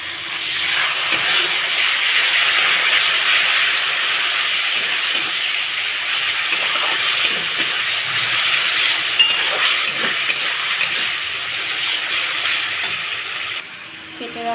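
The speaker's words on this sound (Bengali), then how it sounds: "একটু কষিয়ে নেব। এখন একটু টক দই দিয়ে দেবো।" Sour yogurt goes into a sizzling spiced jackfruit curry with prawn and spinach, producing a loud, steady hiss with faint clinks that continues nearly unbroken before easing off at the very end.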